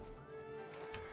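Shadowmere, a horse in the video game Oblivion, lets out a tonal whinny with hoof clip-clop, close and steady across a brief moment.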